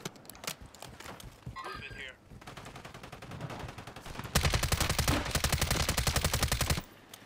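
Rapid bursts of Riveter shotgun fire in the video game Warzone, including a long, fast string of loud repeated blasts near the end, mixed with other game effects and chatter from players.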